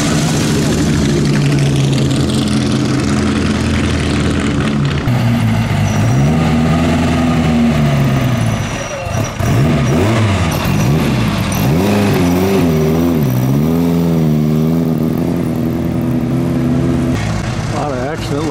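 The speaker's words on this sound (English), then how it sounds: "Here's my Ferrari with all the noise." A Ferrari at the 2017 Mille Miglia road race roars close by, its engine revving loudly with pitch rising and falling in repeated sweeps, a car passing and accelerating through the whole stretch.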